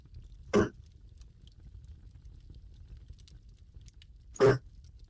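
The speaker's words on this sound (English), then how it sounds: "Just coughing." Two short, sharp coughs several seconds apart, close by, with near silence in between.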